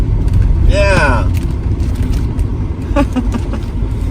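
Car travelling onto Highway 99 from a ramp toward Fresno's Tower District, a steady broadband road and engine rumble throughout, with a brief voice-like tone rising over the noise near the start.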